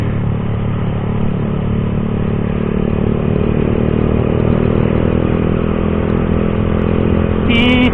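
Motorcycles ride together, including a Kawasaki Vulcan 650cc, on the Marilaque highway at dawn, producing a loud, unbroken engine drone with wind rush heard close up throughout.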